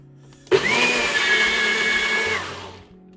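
Close up, a blender churns spinach pancake batter for vegan pancakes in one short loud burst, its motor winding up sharply, whining steadily for about two seconds, then spinning down and stopping.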